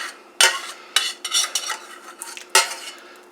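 A utensil stirring Alfredo sauce into penne pasta in a pot, with several sharp metallic clanks against the pot and softer wet scraping between them. The sound is close and there is no talking.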